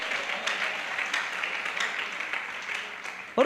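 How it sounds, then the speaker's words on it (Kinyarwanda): Audience applause at a Rwandan testimony and music gathering, a dense steady patter of many hands that holds through the clip without clear spoken words, ending in a sudden louder burst. "Urumva amashyi atangiye kuza?"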